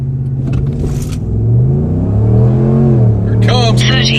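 A 5.7 Hemi truck launches hard from a standstill to 60 mph, the engine note climbing steadily through the gears with brief dips at shifts, loud and close throughout, with some faint voice in the background.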